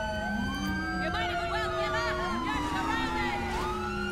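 Several police car sirens wail together in the GTA 5 video game with a police mod, overlapping rising and falling tones that sound loud and continuous throughout.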